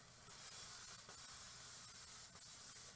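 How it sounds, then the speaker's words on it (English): A nearly empty can of cooking spray hisses into a pan as one continuous, steady spray that runs from start to finish, close and fairly loud. "I'm actually going to add a little bit of cooking spray."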